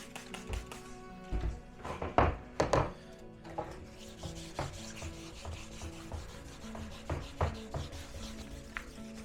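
Resin-coated carbon fibre side skirts for a Mazda MX-5 NC1/Mk3 being sanded by hand, making uneven rubbing and scraping strokes with scattered taps and knocks, close and fairly quiet, with no talking.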